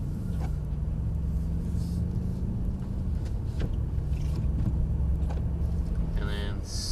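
A Mercedes-AMG car drives along with a steady low engine and road rumble that eases off slightly as it slows, heard from inside the cabin.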